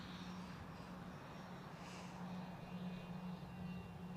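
An airplane taxis out at Newcastle Airport, a faint, steady engine drone heard from a distance with no other sound over it.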